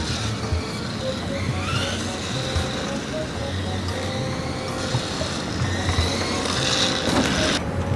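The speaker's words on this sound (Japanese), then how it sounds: "最初はどんな状態か比較するためにこのゴムタイヤのままで走行してみたいと思います" A BD10F front-wheel-drive RC drift car running on its stock rubber tires gives off a thin, high electric motor whine that rises and falls as it drives, with a person talking over it.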